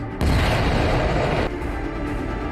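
A spaceship's PDC gun firing in The Expanse TV show, a loud, dense burst of rapid booming fire that fills the clip, dropping slightly in intensity partway through but continuing to the end.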